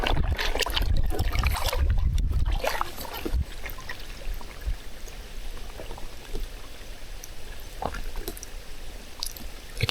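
Water trickling and flowing beneath rubble inside a glacier cave, a steady low wash with small splashes, mixed with chilly wind and scattered close knocks and scrapes.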